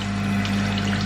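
Water running from a tap during a tattoo session, a steady rushing hiss with no breaks, close and fairly loud, under a low electrical hum.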